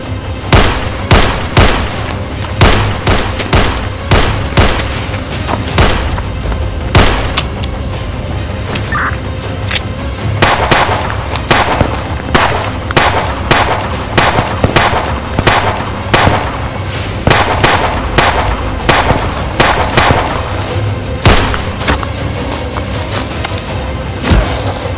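Gunfire in a film shootout: loud, rapid bursts of sharp shots repeat throughout, some clustered like automatic fire, with echoing booms and no speech.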